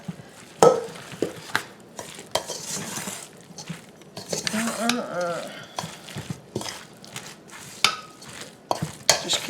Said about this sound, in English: Just going to mix all of this up together until everything is well blended.